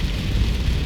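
Heavy rain falls on a street in a Las Vegas neighbourhood, giving a steady, dense hiss that fills the short moment with no pauses or voices.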